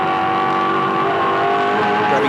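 A V8 Supercar engine at Barbagallo Raceway in the 2005 championship screams steadily at high revs as it grabs fourth gear over a hill, loud and close, with faint race commentary underneath.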